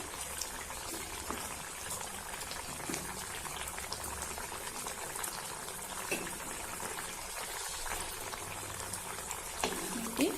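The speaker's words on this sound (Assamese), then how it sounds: "অলপ সময় উতলিবলৈ দিম।" A pot of bottle gourd curry bubbles and simmers continuously, a dense, steady hiss of boiling liquid with occasional soft pops.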